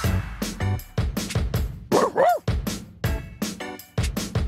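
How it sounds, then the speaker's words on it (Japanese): A hunting dog in the video game Dragalia Lost barks in a quick series of short, loud, clipped yaps with brief gaps, one higher whining yelp in the middle, close and with no talk. "この子はロルフ、僕の猟犬"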